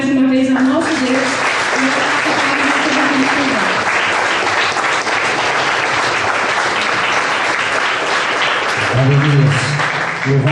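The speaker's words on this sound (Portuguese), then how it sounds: "Vamos aplaudir mais uma vez ao nosso Deus" A church congregation in a Brazilian evangelical chapel bursts into loud, dense, sustained applause, with a voice speaking over the clapping at the start and again near the end.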